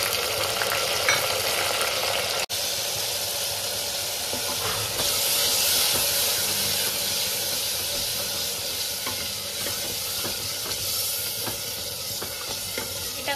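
Spices frying in a kadai with onions browned red for mutton kasha, a continuous moderate sizzle and hiss with occasional stirring clatter, no voices.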